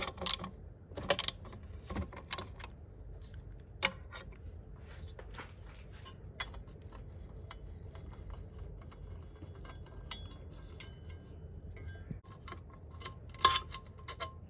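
Screws are loosened one after another on the diesel filter housing of a Citroën 2.7 V6 HDI engine, giving sparse close metallic ticks and clicks with a few sharper knocks in a quiet workshop.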